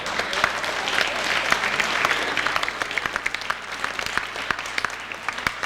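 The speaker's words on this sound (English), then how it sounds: "Please applaud your parents." Sustained applause fills an awards banquet hall as students and others clap for their parents, a steady, dense wash of many hands with no voices.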